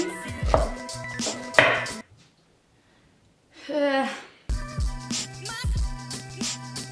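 A knife chopping an ingredient very finely on a cutting board for a shaker salad, with quick rhythmic cuts in two bursts over music, separated by a quiet gap.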